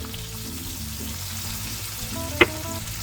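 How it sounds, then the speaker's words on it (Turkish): Fish in a pan with lemon juice and a little water sizzles and bubbles quietly and steadily, with one brief clink of a utensil near the end. "Balıklar pişip suyun çekilene kadar pişireceğim"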